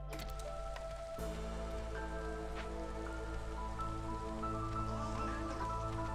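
Steady rain ambience in the video game Against the Storm, continuous patter and drips over a layered soundscape with tonal music, even and unbroken.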